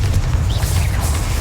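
Bombarda and Confringo spell blasts in a Harry Potter video game, heard as a steady, loud low rumble of explosions with faint whooshing streaks over it.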